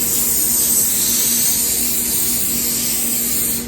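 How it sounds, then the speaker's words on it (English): A steady, close hiss of olive oil cooking spray from an aerosol can onto a baking sheet, one continuous burst lasting a few seconds. "I'm just going to spray it with olive oil spray."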